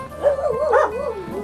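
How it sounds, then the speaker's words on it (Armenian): A farm guard dog that watches over sheep gives a single drawn-out, wavering whine-like cry, close and fairly loud, with no talk. "ես էլ իմ պահապան շներն են"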